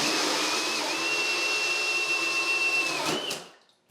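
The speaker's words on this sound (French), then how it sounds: "je peux percer les contreplaqués." Power drill boring through plywood for a bathroom vanity build, a loud steady high whine held for about three seconds before winding down abruptly, with no talk.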